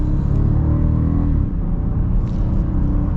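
A 2023 VW Atlas Cross Sport with its V6 pulls hard from inside the cabin, a steady, loud engine rumble and drone that holds throughout, with a slight shift in tone midway through.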